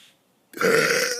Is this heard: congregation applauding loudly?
no